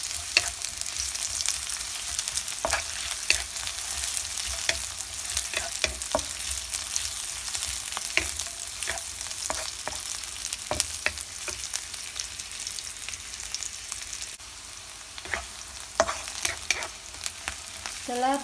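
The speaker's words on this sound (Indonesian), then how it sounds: "Kita tumis." Shallots, garlic and onion sauté in a hot pan for Pattaya-style nasi goreng, a steady close sizzle running throughout with frequent sharp clicks and scrapes of a spatula stirring.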